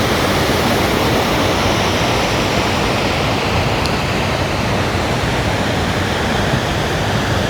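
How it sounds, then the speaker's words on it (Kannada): Steady, loud rush of flowing water from a stream or waterfall, a continuous broadband roar filling the whole span with no pauses or voices. "ನೀರು ಸೌಂಡ್ ನೀವು ಕೇಳಿಸ್ಕೊತಾ ಇರ್ಬೋದು"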